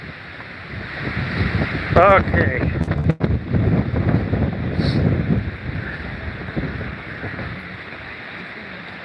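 Wind gusts buffet the microphone on a hiking trail at Beacon Rock, a loud rumbling roar that peaks early and eases off, with brief speech and a few rustles.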